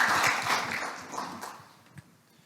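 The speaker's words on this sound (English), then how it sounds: "Another round of applause." Applause from a conference audience after a software engineering talk, strongest at the start and fading away over a couple of seconds to a few scattered claps.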